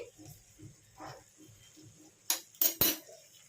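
Chilli chicken being stirred in a pan with cornflour slurry: soft rhythmic scraping strokes, then three sharp metallic clinks of a spoon against the pan near the end.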